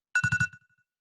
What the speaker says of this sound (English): cell phone going crazy with alarms